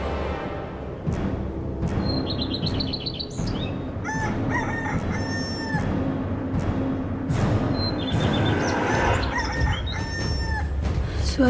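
A rooster crows repeatedly at night, several drawn-out cock-a-doodle-doo calls rising over a steady background hum, with faint clucking in between.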